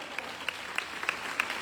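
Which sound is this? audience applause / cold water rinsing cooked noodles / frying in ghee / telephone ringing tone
audience applause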